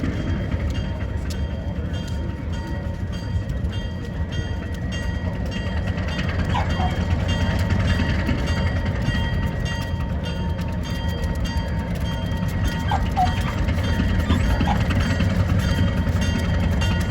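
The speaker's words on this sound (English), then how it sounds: "here it comes, big old diesel train" A big diesel train pulls into the mountain town of Silverton, Colorado, a steady, fairly loud rumble of engine and rolling cars with faint squeals and clanks throughout, no voices.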